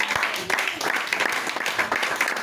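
Congregation applauding during a church worship service, a steady wash of clapping hands sustained throughout at moderate level, with voices mixed in underneath.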